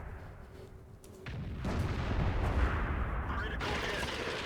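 Tank gun from World of Tanks firing at an IS-7: a heavy boom swells into a sustained rumbling blast that fills the second half, with engine-like noise before it.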